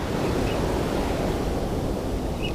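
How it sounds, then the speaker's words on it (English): Strong surf pounds a public beach during surf fishing, a steady, loud wash of breaking waves with wind rumble filling the whole clip and no voices. "The waves are really strong."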